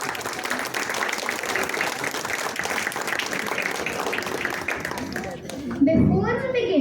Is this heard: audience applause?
yes